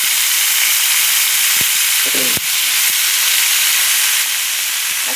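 Eggplant dropped into hot oil in a home kitchen, giving a loud, steady sizzle and hiss throughout with a few brief clatters, no talking.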